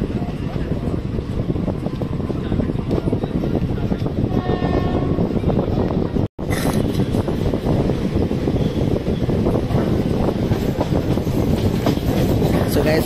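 The Pinakini SF Express pulls out of a station in the Vijayawada division, heard from inside as a continuous loud rumbling roar with rattling carriages and a sudden brief dropout midway.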